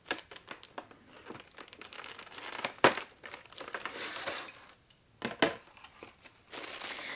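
Plastic packaging of a Hatsune Miku figurine being opened, giving close, irregular crinkling and rustling with a few sharp crackles and brief pauses.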